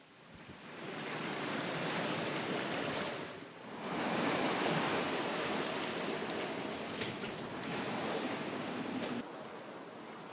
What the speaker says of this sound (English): watch some waves roll by